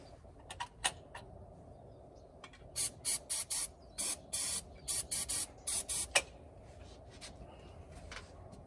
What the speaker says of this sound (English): maybe spray some more starter fluid in there,